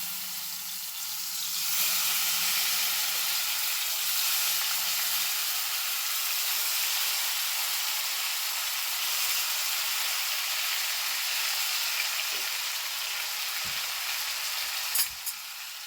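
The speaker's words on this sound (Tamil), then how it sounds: "இந்த எண்ணெயில் நல்லா பரட்டிடணும் வாழைக்காய்." Raw banana pieces sizzle steadily in hot oil in a pan, a continuous close hiss that holds for the whole stretch with a faint clink near the end and no voices.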